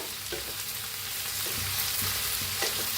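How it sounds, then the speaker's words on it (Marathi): Chopped cabbage sizzles steadily in a hot pan, with a few soft scraping stirs breaking through the even frying hiss and no voices. "आता कोबी कापून घेतलेला घालून घेऊया हलवून घेऊया"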